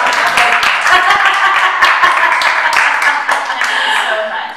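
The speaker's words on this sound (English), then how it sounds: "she needs a round of applause" Close, dense clapping from a small audience at a business talk, a steady patter of hand claps lasting the whole few seconds with little voice over it.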